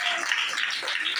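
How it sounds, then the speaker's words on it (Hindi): Audience applause for Ram Singh at a church gathering, a dense, steady wash of many hands clapping at moderate loudness, with no talk over it. "जोरदार ताली बजाएंगे आप राम सिंह के लिए।"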